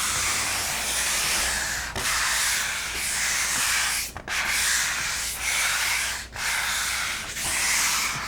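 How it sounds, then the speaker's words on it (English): A painted tabletop is lightly sanded with a sanding block in steady back-and-forth strokes, a close, loud raspy scrubbing broken by brief pauses at each change of direction, with no voices. "it leaves a little bit of a residue because you're sanding"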